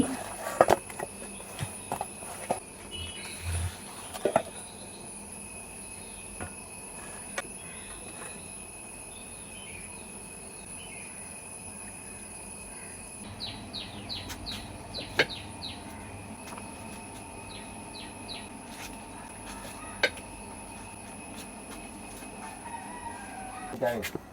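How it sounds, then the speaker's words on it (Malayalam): Outdoor ambience with birds chirping and chickens calling now and then, a steady insect-like hum underneath and occasional soft knocks. "നിങ്ങൾക്ക് ആ കിളികളെ ശബ്ദവും കോയകളെ ഒച്ചമളിയും ഒക്കെ കേൾക്കാൻ പറ്റിയില്ലേ"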